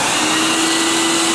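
A rented carpet extractor switched to suction-only mode gives a loud, steady, close whine of rushing air with a constant high tone and no pauses throughout.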